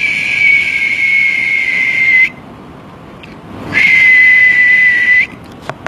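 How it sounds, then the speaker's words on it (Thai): A man making a half-whistling tone with his mouth, holding one steady, clear high pitch for about two seconds, pausing briefly, then sustaining the same note again, loud and close with no speech. "หลายคนบอกว่าผิวปากไม่ใช่แน่นอนมันกึ่งผิวปาก"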